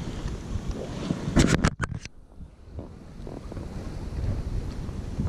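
Strong gusting wind buffets a fishing boat on open water, a rough continuous roar with a burst of sharp knocks partway through, then the blustery rush carries on.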